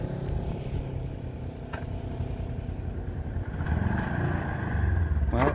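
A rebuilt Ford Ranger truck drives along with a steady, rumbling mid-range engine note that swells louder toward the end, with faint rattles and no talking.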